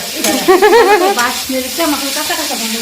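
Potatoes frying and being stirred in a pan for a Bengali chitol fish curry, a steady sizzle with scraping stirs near the start, close and fairly loud with no talk.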